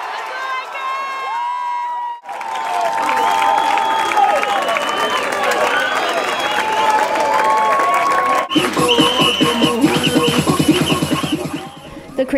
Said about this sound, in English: The crazy South Dade crowd was into the game throughout the night.